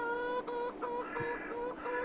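Chickens in a Farming Simulator 22 coop cluck continuously in overlapping, tonal calls, a steady flock chorus at moderate volume with no talking.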